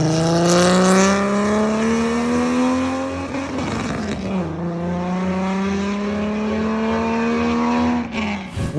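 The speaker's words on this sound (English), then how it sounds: "With the 3-inch stainless straight pipe and the pacemaker 4480 headers installed, this thing sounds like an exotic Japanese car." A Ford fitted with a 3-inch stainless straight pipe exhaust and Pacemaker 4480 headers revs hard, its loud raspy engine note climbing, dropping and climbing again in two long sweeps, close and unaccompanied by talk.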